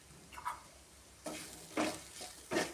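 Clam meat roasting in coconut oil in a pan, faint sizzle with a few short stirring scrapes in separate bursts.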